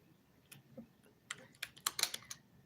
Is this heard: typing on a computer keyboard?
yes